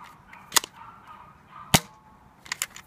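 A Nerf Rebelle Super Stripes Wild Glam blaster fires a foam dart, with a sharp snap near the middle and lighter clicks and pops before and after, against faint background noise.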